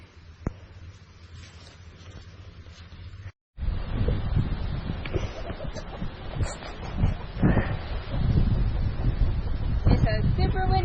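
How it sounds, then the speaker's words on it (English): Strong wind gusts buffet an outdoor hillside microphone near a chicken coop, a dense low rumble that grows louder after a brief dropout and continues steadily with occasional rustling. "It's a super windy day out today."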